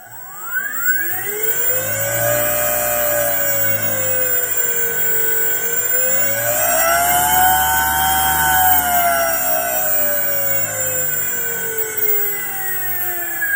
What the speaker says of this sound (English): There's no load, so it spins really, really fast